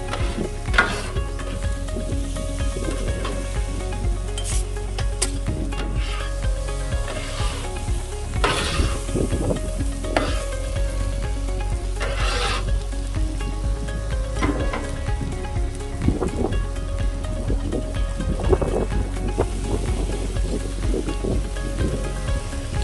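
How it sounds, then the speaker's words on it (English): Thinly sliced cheesesteak meat sizzles steadily on a hot griddle, close and loud, with scraping and stirring clatter as it is pushed toward the edge, no talking. "we're going to go ahead and move these to the side of the griddle so they don't continue to cook at a high pace."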